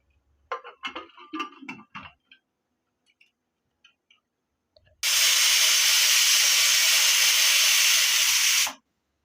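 A pressure cooker on the stove for a pea and paneer dish gives a few soft clicks and knocks, then a sudden loud steam whistle that hisses steadily for about four seconds before cutting off abruptly.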